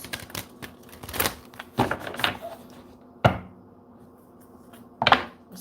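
Tarot cards shuffled by hand during a live reading, with several sharp cracking taps and riffles at uneven intervals over a low background hum, no speech.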